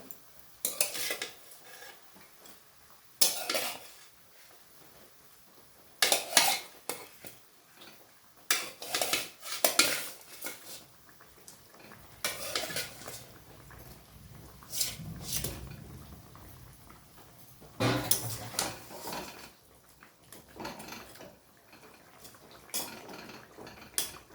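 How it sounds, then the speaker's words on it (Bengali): Pieces of katla fish go into a pot of bubbling yogurt curry gravy, heard as a series of close, sharp metallic clinks and spoon scrapes in separate bursts, with a low simmer between them and no talking. "ঝোলটা আমার ফুটে গেছে, এবার আমি মাছগুলো দিয়ে দেবো"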